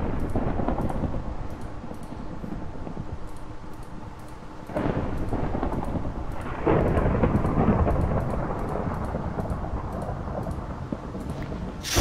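Steady rain pours down in the blocky survival game Terrafirmacraft while rolling thunder swells in long loud waves, the downpour hissing constantly throughout without any voices.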